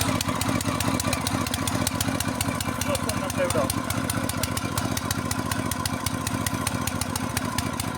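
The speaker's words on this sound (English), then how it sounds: "It is the powerful four-stroke engine, high pressure HTP high pressure sprayer technology features" A powerful four-stroke engine drives an HTP high-pressure agricultural sprayer pump, running steadily with a loud, even mechanical drone and rapid regular ticking throughout, while voices talk over it.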